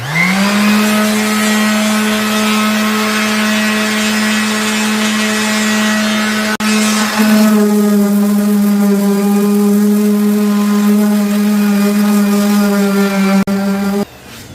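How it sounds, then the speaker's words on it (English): A small Bauer orbital sander from Harbor Freight buzzes against a plastic gas tank for a 1988 RM250, a loud continuous motor drone with a steady pitch, close up, briefly dipping near the middle and cutting off at the end. "I just use this Bauer little orbital sander thing I got from Harbor Freight"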